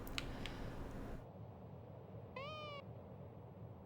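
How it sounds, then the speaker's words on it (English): A single loud cat meow from a cat character in a Super Mario World hack game rises and falls for about half a second, set against a steady electronic background hum. "And he meows at me."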